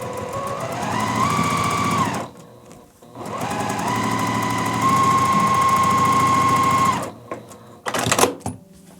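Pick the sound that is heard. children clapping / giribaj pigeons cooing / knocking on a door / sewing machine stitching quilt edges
sewing machine stitching quilt edges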